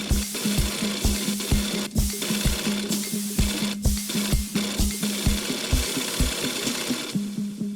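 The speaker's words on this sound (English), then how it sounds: "even using a sewing machine as an instrument and mixing these sounds into his compositions" Rhythmic sewing machine stitching looped into a steady beat, a humming tone running under the repeated mechanical thumps.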